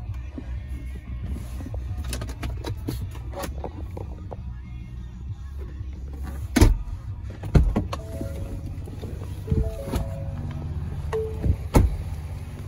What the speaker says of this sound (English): power rear sliding glass.